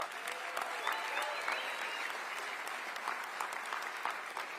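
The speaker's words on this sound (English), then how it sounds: "how about another round of applause for our great governor?" A crowd at a live event gives the Texas governor a round of applause, a steady, dense clapping from many people with scattered sharper claps and no pause.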